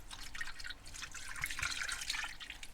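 Apple juice and water pour over ribs in a pan at a campsite, a close, splashing trickle with scattered drips and small liquid gurgles, fairly quiet and continuous, without talk.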